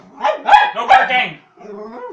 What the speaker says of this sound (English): Oh, you're barking now.